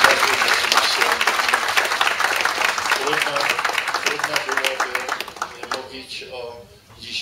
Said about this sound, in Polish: Prosiłbym tu brawa